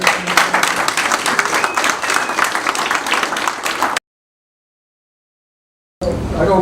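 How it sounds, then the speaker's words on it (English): Audience at an astronomy club meeting applauding, steady dense clapping for about four seconds, then a gap of silence before clapping and crowd noise resume. "a round of applause"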